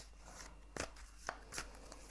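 Tarot cards being shuffled at close range: three crisp riffling bursts spaced across a couple of seconds, each a short papery flutter over quiet room tone, with no talking.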